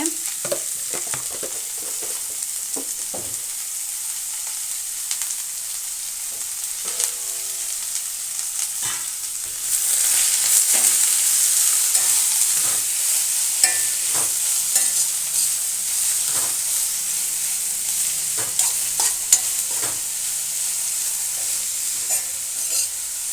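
Onions stir-frying with a pinch of salt in a pan for a quick onion palya, a soft sizzle with frequent spatula scrapes and taps that grows louder and more intense about midway, no voices.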